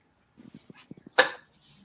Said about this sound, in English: Do you hear the dog?